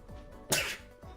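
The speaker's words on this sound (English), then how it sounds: "give me a second to sneeze" A single close sneeze, a sudden breathy burst that fades quickly, with faint background noise around it.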